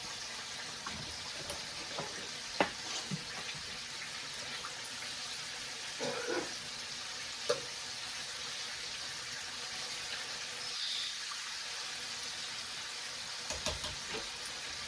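Chicken frying in a vintage 1950s deep fryer gives a steady sizzling hiss with scattered pops and crackles, heard alone without talk.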